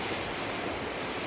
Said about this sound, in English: I can't stop showing you the falls